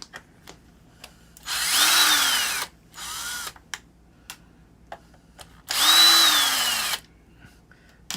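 A cordless power drill spins out the four screws on a 2-stroke gas RC car, sounding in two loud, sustained whirring bursts with a rising then falling pitch, separated by a shorter burst and small clicks, with no talking.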